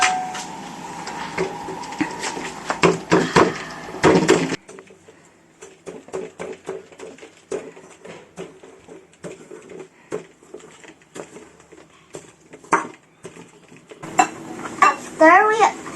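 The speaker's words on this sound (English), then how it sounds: "We need to smash the biscuit first." Biscuits being smashed in a bowl, with loud clattering and scraping of utensil against the bowl at first, then lighter irregular tapping and crunching, and a burst of clinks near the end.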